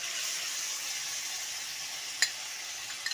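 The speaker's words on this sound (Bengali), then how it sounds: "এবার যে মশলার পেস্টটা আমি তৈরি করেছিলাম সেই মশলার পেস্টটা এর মধ্যে দিয়ে দিচ্ছি" Spice paste sizzles steadily in hot oil with tangra fish for a Bengali tel jhal curry, a continuous bright hiss interrupted by one brief utensil clack near the end.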